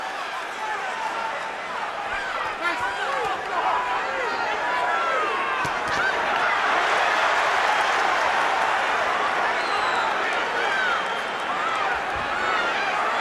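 A boxing arena crowd at Arturo Gatti vs. Gianluca Branco roars in a loud, sustained swell of cheering that builds toward the middle, with many voices shouting and a commentator talking over it.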